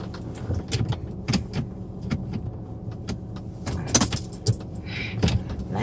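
A car idles steadily after being remote-started to warm up, a low continuous hum running beneath close, sharp clicks and jangling keys, with occasional door or handle knocks and no talking.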